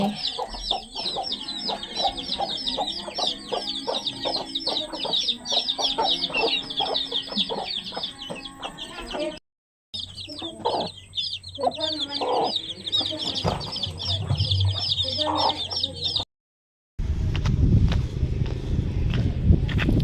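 Large chickens in a rural Thai village cluck and call continuously, close and fairly loud, with occasional footsteps and brief gaps of silence, and a sudden shift to a louder, rougher background near the end.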